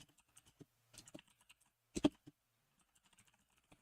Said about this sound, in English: Click noise on marker placement annoying.